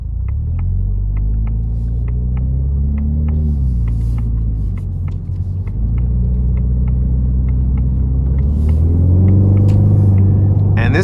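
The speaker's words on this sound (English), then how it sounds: "this active exhaust, again, even though it's a 4-cylinder turbo, it sounds so good" A 2024 Ford Mustang EcoBoost Convertible's 2.3-litre four-cylinder turbo engine rumbles deeply through its active exhaust, pitch rising and falling as it revs up through gears, loud and close with no talking.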